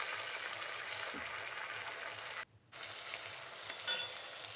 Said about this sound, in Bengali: এগুলো দিয়ে ভালো করে কষিয়ে নেব এই ছুটিটাকে।